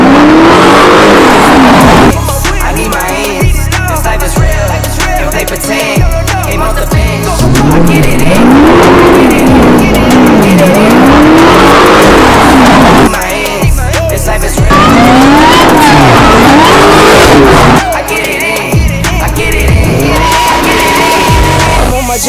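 Powerful cars such as a Red Eye, Hellcat and Supra at a car meet, engines roaring and revving loudly and close, with rising and falling pitch sweeps and possible tire squeal, continuous for the whole stretch.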